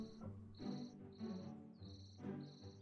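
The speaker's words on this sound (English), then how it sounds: "Wonder if that cricket will still be there at the end of the day." A cricket chirps in the farming video game Staxel, soft high pulses repeating in an even rhythm over a quiet, tonal music bed.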